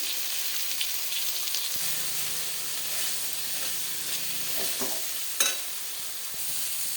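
Spice paste with tomato for a fish curry fries and is stirred in a pan with a little water, a steady loud sizzle with spoon scrapes and a few clinks.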